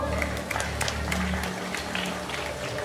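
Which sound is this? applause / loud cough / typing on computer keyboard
applause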